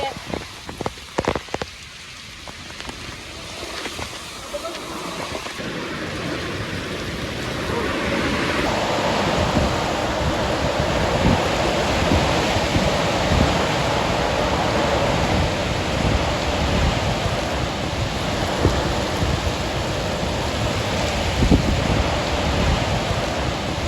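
Heavy rain with strong wind pounds a village, a dense continuous roar of drops on surfaces that thickens after a few seconds and holds steady and loud throughout.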